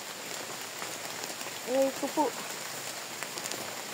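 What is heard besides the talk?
rain falling during a mountain hike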